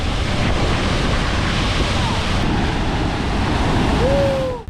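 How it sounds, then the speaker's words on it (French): Huge ocean waves crash against rocks on Nusa Penida, a loud, continuous roar of surf mixed with wind buffeting close by, with no clear breaks between surges. "il y a des énormes vagues qui claquent contre les rochers"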